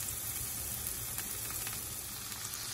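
Corned beef sizzles in a frying pan with bitter melon, a steady close crackle of hot oil with no talking.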